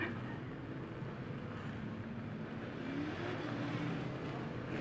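A continuous engine roar and rumble of race cars, fairly loud and steady throughout, with no clear single pass-by standing out.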